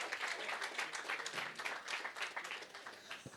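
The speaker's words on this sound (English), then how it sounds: "we'll give them a round of applause" Audience applause at a live AFL season review show as the hosts are welcomed to the stage, a lively crowd clapping with some individual claps standing out, fairly steady throughout.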